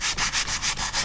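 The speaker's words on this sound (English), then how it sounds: "I don't want too much of a grit sandpaper because we don't want to take out too much" Fine-grit sandpaper rubbed by hand over damaged wooden trim, about seven quick, even back-and-forth strokes, loud and close with no talk.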